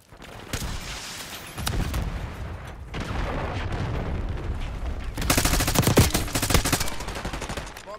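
Gunfire in Call of Duty: Black Ops 6 rattles in sustained automatic bursts, with a sharper, louder volley near the end, set among game noise and almost no speech.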